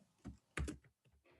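Keys on a computer keyboard clack a few times in a short, uneven burst, close and fairly quiet, in an office during accounting data entry.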